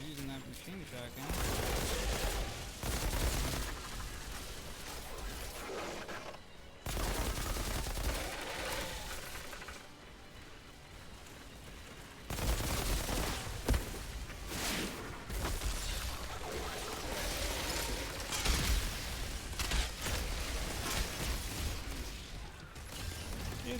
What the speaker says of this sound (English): Using that machine shotgun.